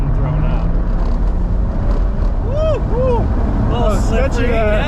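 A BMW E92 335i on bald tires and with a broken belt rolls over dirt, a steady close rumble of engine, road noise and thrown-up gravel. Voices and whooping sounds are heard over it throughout.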